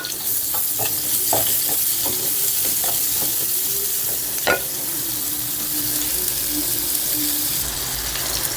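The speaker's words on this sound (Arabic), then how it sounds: "نقطة زيت اهي صغنونة، وننزل بالبصل بتاعنا جوانح كده" Sliced onion frying in a small drop of oil in a pan, a steady close sizzle with a few stirring scrapes and clinks early on, no voices.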